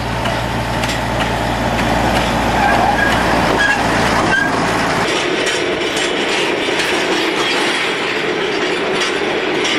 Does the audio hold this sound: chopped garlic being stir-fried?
no